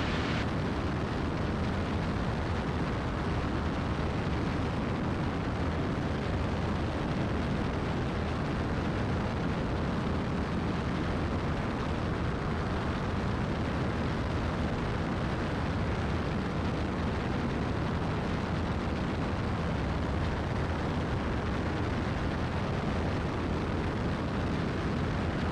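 Steady, loud drone of a light aircraft engine running at high RPM in cruise flight from Concord toward Anson over Lake Tillery, a continuous broadband roar filling the cabin with no break.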